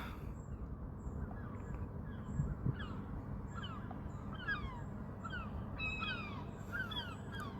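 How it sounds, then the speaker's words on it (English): Seagulls call repeatedly at a distance above the abandoned 1886 Exchange approach train line viaducts in Liverpool. The short, sharp cries come in clusters over steady outdoor background noise, with no talking. "These seagulls are going off the friggin' heads."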